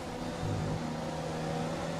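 A Formula One race car engine in the F1 2020 game whines at a steady high rev, a dense, continuous drone at moderate volume with no clear gear changes.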